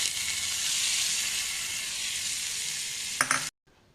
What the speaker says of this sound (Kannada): ಈಗ ಒಗ್ಗರಣೆ ಹಾಕೋಣ.